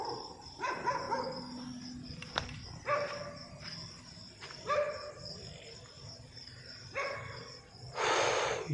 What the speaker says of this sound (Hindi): ये कुत्ते भी भौंकने शुरू हो गए।